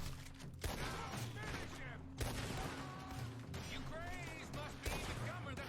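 Bursts of musket and cannon gunfire crack through a video game battle set at Culloden, sharp volleys recurring under continuous talk and background game sounds.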